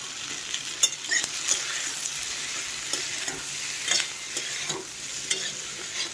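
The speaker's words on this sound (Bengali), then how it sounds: "লবণ দিয়ে আমি একটু নেড়ে নিচ্ছি এটাকে।" Food being stirred in a frying pan after salt is added, cooking over a low gas flame: steady soft sizzling with repeated scraping strokes of a spoon, close and moderately loud, no voices.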